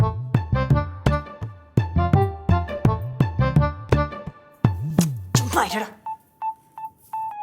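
A rapid series of telephone keypad tones as a number is dialed, loud and close, followed by a faint ringback tone repeating.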